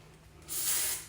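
Hairspray hisses onto teased, curled cheerleader hair in a single steady burst of about half a second, loud and close, with no talking.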